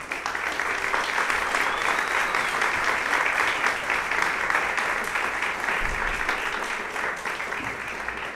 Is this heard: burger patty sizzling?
no